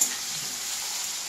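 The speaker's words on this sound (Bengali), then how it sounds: "ভালো হলো যে চশমাটা আমি পরে আছি, মানে যা তেল ছিটকিছে না গরম গরম" Hot oil spattering in a pan where onions and tomato are frying, a short burst of bright, steady sizzle at close range with no voices.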